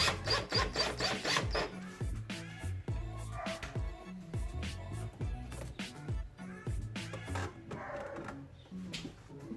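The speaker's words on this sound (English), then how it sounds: "So we'll loosen this clamp here and then try and slide this filter off." A hose clamp on a 2007 Subaru STi being loosened with a flathead screwdriver and the intake filter slid off, giving close, quiet rapid ratcheting clicks and scraping, then rubbing and plastic rustling.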